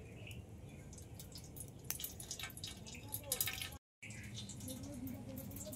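Water trickles and drips as washed chhana, Bengali cottage cheese, drains, a soft steady splashing patter close by under a speaking voice, broken by one brief silent gap.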